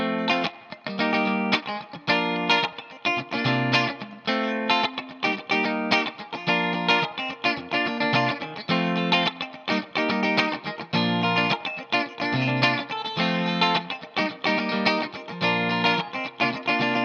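Electric guitar strums the chorus rhythm of a song, a steady, busy run of choppy chords with an effects-coloured, slightly driven tone that plays continuously and alone.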